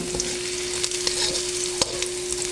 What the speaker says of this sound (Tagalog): Na piprito-prito na natin.